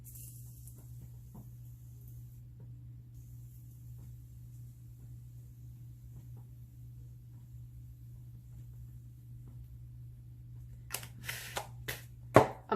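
Makeup setting spray, nearly empty and giving a fine mist, hisses out in a quick run of four or five short bursts near the end, after a long stretch of quiet room hum.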